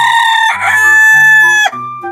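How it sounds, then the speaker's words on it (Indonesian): A loud, close rooster crows once in a long drawn-out call, followed by a couple of short clucks. "Ayam."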